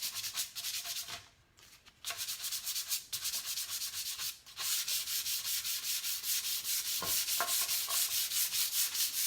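Rhythmic hand sanding strokes on a painted flip-top table, light pressure for gentle distressing, a steady close scratchy rub with a short pause partway through, no talking.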